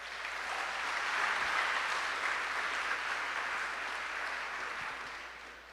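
A church congregation applauds after a scripture reading, a steady wash of clapping that swells and slowly fades over several seconds, heard from a moderate distance.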